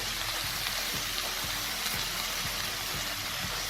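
Mixed vegetables fry hard in a pan as long-cut ridge gourd goes in: a bright, continuous sizzle close by, with regular dull knocks of stirring and no voices.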